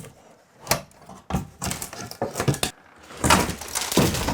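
Made-in-Japan Toyo Ply wood paneling from the 1960s being pried off a house wall, giving a series of sharp cracks, creaks and splintering snaps in irregular bursts, close and fairly loud.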